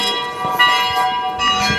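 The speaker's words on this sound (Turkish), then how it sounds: "Kilise çanları çalıyor şu an." Church bells ring in the town of Bamberg, with several overlapping tolls, bright and resonant and heard from moderately close outdoors.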